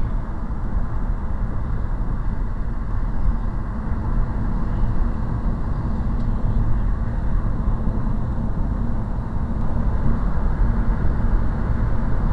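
Steady engine drone and road rumble fill the cabin of a 1996 Chrysler Sebring with a new air intake cruising around the block, constant and close, with no talking.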